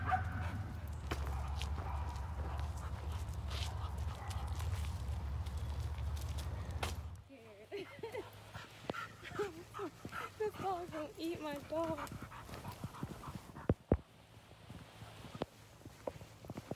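Dogs at an outdoor dog park give a few scattered barks and yips amid footsteps and ambient noise, with people talking throughout.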